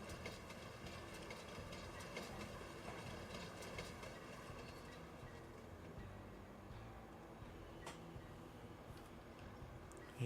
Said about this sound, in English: Hey, there goes the train.